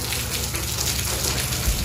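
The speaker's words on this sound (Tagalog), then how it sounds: "Ulan lang po yan" Steady heavy rain pours down, a dense, even hiss of drops hitting surfaces with no talking.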